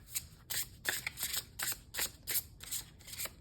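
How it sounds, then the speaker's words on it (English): Tarot cards being shuffled by hand, a run of quick crisp riffling bursts repeating roughly every half second, close and fairly quiet with no talk. "Bear with me while I shuffle these all out."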